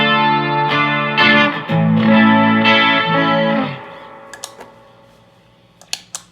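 Electric guitar chords through a Supro Black Magick amp and an EVH Chorus pedal ring out with a shimmering, warbling chorus effect, several strummed phrases that then fade into a few quiet clicks and taps.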